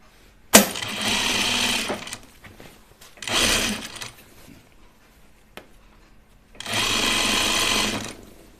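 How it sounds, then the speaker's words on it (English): A sewing machine stitches a muslin tunic in three loud, rapid bursts of running stitches, each lasting one to two seconds. Quieter handling noise fills the pauses between them, and the machine is close by. "I'm sewing this now the wrong way up on my machine"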